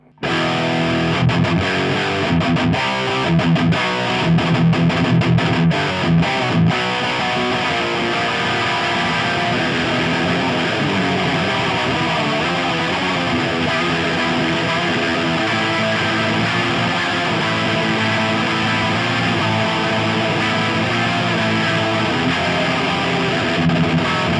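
Heavily distorted electric guitar played through an amp with all controls at 12 o'clock for a black metal tone, loud and sustained with chugging chords and ringing notes throughout, no talking.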